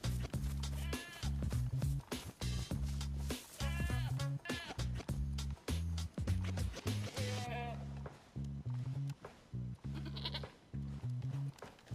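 A goat in the DayZ survival game bleats over and over, loud and close, with quavering cries above a steady low droning tone.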